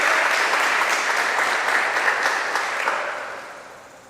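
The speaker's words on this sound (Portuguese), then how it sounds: "Você pode glorificar a Deus aplaudindo ao Senhor e dando glória a Ele" Congregation applauding in a church, steady dense clapping that holds for several seconds and then gradually fades out.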